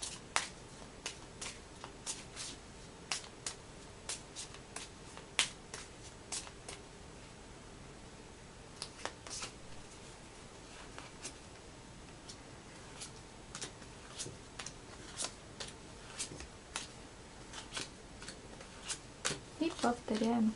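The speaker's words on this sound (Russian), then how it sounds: "Снова тасуем карты." Playing cards are shuffled by hand during fortune-telling with a deck, making repeated quick riffling and snapping clicks spread irregularly across the stretch, close and fairly crisp against a quiet background.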